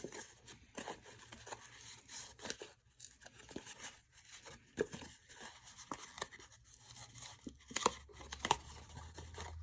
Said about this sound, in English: take the score tape off of here